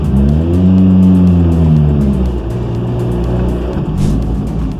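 A Hofstetter sports car engine revs loud and close, its rising drone climbing steadily before settling into a sustained roar with a brief higher burst near the end.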